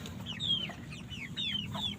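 Broiler chickens cluck in a coop, several short repeated calls overlapping at close range over a low steady background hum, with no voices.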